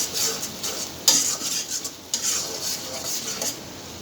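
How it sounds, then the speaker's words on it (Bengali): Tomato spice paste with a little sugar is sautéed in a pan for egg curry. A spoon scrapes and clanks against the metal at close range over a faint sizzle, with two sharper knocks. "আমি মশলাটা ভালো করে কষিয়ে নেব"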